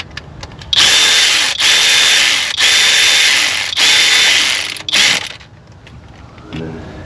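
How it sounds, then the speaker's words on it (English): A hand ratchet tightens the thin radiator bolts on a 2009 Jeep Cherokee 3.7L, giving loud, close, rapid clicking runs in about five bursts with short pauses between them and no talk. "Take you a regular ratchet,"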